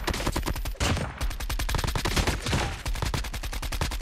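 Rapid automatic gunfire from a video game gun, a dense, loud burst of evenly spaced shots that runs steadily for the whole stretch with only a brief break, with no voices over it.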